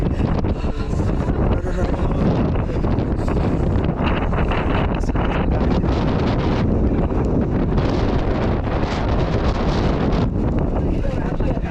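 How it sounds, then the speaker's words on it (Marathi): Strong wind and rain on Kalsubai peak, Maharashtra's highest summit, buffet the microphone in continuous roaring gusts with hissing noise, and no clear voices. "इथं खूप दुःख आहे आणि खूप वारा आणि पाऊस पण आहे"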